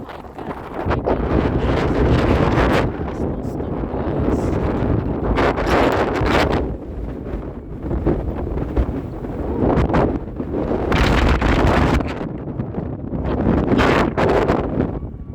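Strong wind in a snow storm batters the microphone in loud, roaring gusts that surge and ease repeatedly, with no talking.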